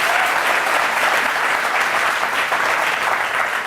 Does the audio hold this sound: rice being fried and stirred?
no